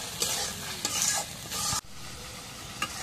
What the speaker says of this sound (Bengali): এখন মশলাটা হালকা করে কষাবো